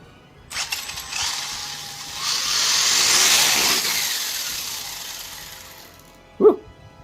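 Tamiya TT-02 radio-controlled car with a brushless motor running while held in hand, a buzzing whine that swells and fades over several seconds with rattly vibration, ending with a short knock.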